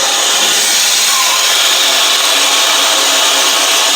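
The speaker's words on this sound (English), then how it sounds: "Now they're sucking air in to release the vacuum." Air hisses steadily into a HarvestRight freeze dryer as its vacuum is released, a continuous broadband rushing that stays level throughout with no voices.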